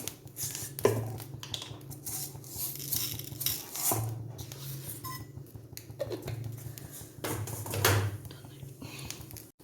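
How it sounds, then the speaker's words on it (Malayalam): Mustard seeds popping in a hot pan while making beef pickle, a few scattered crackles and clicks close by over a low background hum. "കടുകിട്ട് പൊട്ടി"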